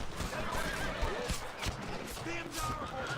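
Horses in the Red Dead Redemption video game whinny and snort amid the thud of hooves, set in a noisy outdoor scene with shouting voices and rumbling motion over a sustained background din.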